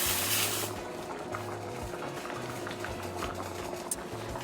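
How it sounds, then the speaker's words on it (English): Steak and gravy simmering in a pot on the stove, giving a steady soft bubbling and gentle sizzle with a low hum underneath, continuous and fairly close. "So now I'm gonna turn this down on low and let it simmer."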